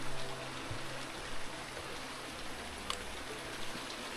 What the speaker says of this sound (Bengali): এই হলো জায়গাটা, ছোট স্ট্রিমটা, বেশি বড় না, কিন্তু এরকম একটা এরিয়া তৈরি করেছে তার জন্য এদিক দিয়ে জলটা আসছে।